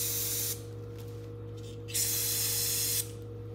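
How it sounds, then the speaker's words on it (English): Brake cleaner sprayed onto lug studs during a track install on a 2019 Polaris Ranger: two hissing spray bursts, the second louder, over a steady low hum. "So I'm gonna spray a little bit of brake cleaner on there."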